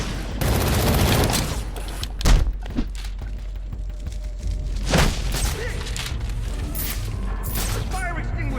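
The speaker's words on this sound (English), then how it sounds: "The fire extinguisher blew." A fire extinguisher bursts with a loud boom in the Batman Arkham Origins game during a GCPD break-in, followed by a rumbling burst of debris and gunfire-like cracks over a steady background, with voices present.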